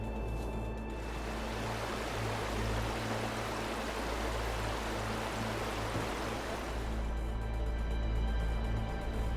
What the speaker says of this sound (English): Rugged wilderness, roaring rivers, and mountain streams snake through the forest